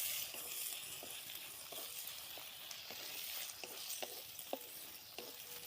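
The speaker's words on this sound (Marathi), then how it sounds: "यातच आता मिरची टाकून हलवून घ्यायची." Green chillies stirred into onions frying in a pan, giving a soft, even sizzle close by with a series of light spatula taps and scrapes at a loose rhythm, fairly quiet and with no speech.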